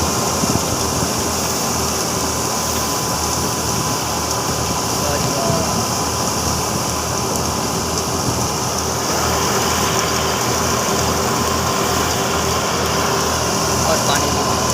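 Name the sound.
tractor engine running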